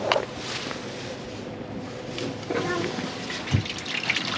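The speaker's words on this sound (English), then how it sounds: "let me turn the live well on." A boat's live well pump fills the tank with a steady gushing, splashing stream of water, close and continuous, while someone speaks briefly over it on a fishing trip off Dauphin Island, Alabama.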